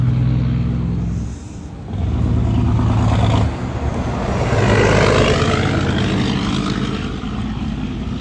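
A Ford F-150 pickup truck passes close by on a street during a dog walk, a loud engine roar and tyre rush that swells, dips briefly, then surges again before fading.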